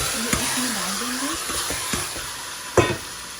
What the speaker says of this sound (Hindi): अब हम एक बर्तन में ऑयल डालेंगे, ऑयल ज़्यादा नहीं डालेंगे, और ये जो चिकन था मेरे पास मैरिनेट, ये इसमें डाल देंगे।